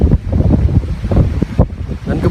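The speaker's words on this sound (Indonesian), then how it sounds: "cerah sekali dan anginnya agak kencang, jadi mungkin nanti terdengar tidak terlalu terdengar suara saya" Strong wind buffets the microphone outdoors on a bright day near rice fields around a traditional Sundanese stilt house, a close, gusty rumble with uneven surges throughout.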